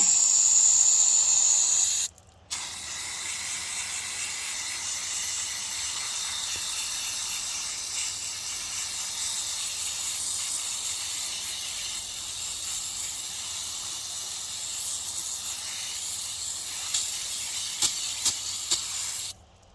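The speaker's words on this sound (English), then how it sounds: "I just like to use brake clean. Spray these puppies down," A long, steady aerosol spray of brake cleaner hisses close by onto a motorcycle air filter, pausing briefly near the start before continuing in one sustained blast.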